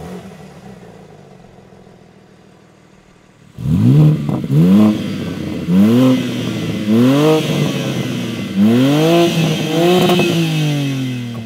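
A BMW M3 Competition fires up after a quiet idle and revs hard several times in a row, each loud rising blip falling back between pulls, close by in cold weather before a drag race.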